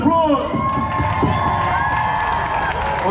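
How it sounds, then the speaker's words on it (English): Outdoor Christmas party crowd on King's Road, Sloane Square, erupts in loud cheering, shouting and scattered clapping, close and energetic for a few seconds. "round of applause"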